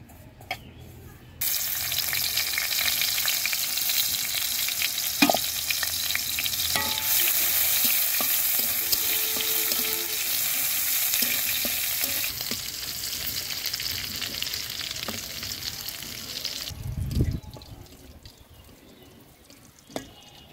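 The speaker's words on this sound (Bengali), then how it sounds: "কড়াইয়ে তেল দিলাম, তেলটা গরম হলে রসুনগুলো দিয়ে দিব।" Garlic cloves fry in hot oil in a wok-style kadai, giving a loud, continuous close sizzle with occasional stirring clinks and scrapes, then dying down near the end.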